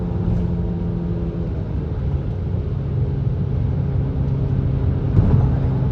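Audi S3 quattro of the A3/S3 8L generation driving, a steady low engine rumble and road drone held evenly throughout, with a slight swell near the end and no talk over it.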